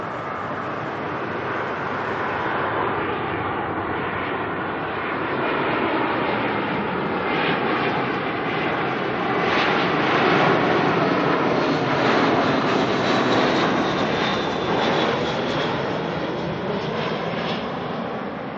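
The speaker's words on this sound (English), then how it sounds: "Next arrival coming in from Jetstar, JQ260 coming in from Wellington." Jetstar passenger jet arriving at Auckland Airport, a continuous broad engine roar and whine that swells slightly and holds steady at moderate distance, with no voices.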